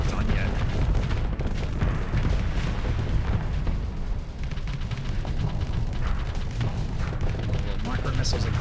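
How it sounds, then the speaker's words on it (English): Micro missiles firing in the Starsector space combat game, a dense stream of booming launches and blasts layered over steady rumbling battle noise. "Micro missiles again, sure."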